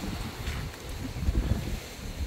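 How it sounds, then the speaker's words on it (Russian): Strong wind buffets the microphone with a steady low rumble and gusty roar, loud and continuous throughout. "Видите, да, какой ветер сильнейший."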